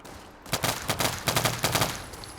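Gunfire in a free online shooting video game: about ten sharp, loud, close shots in quick clustered bursts, like automatic weapon fire, after a short quiet start.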